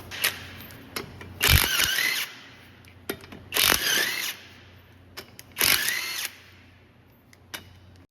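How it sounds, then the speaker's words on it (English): On a 2015 Kia Sportage, an impact tool runs off wheel nuts in three loud whirring bursts spaced a couple of seconds apart, close by, with quiet clicks and handling noise between them. "First thing we got to do, take these wheel nuts off"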